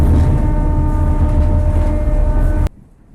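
A moving passenger train rattles along at a steady low rumble with constant droning tones, loud and close from inside, then cuts off abruptly near the end.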